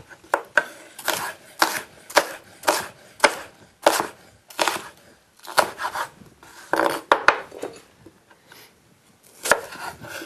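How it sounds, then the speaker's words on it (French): A knife chops onions on a cutting board in rapid bursts of crisp, close taps, pausing briefly between runs, with no talking. "émincer l'oignon"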